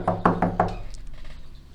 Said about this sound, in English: Why is someone knocking on my door?